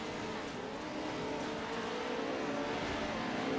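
Racing truck engines in the iRacing sim roar in a dense, sustained drone, a pack of trucks revving steadily and loudly through a corner with no pause.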